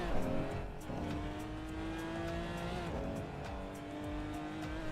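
A modded race car engine roars in the racing game Assetto Corsa, dense and continuous at steady high revs with brief shifts, with faint talk beneath it.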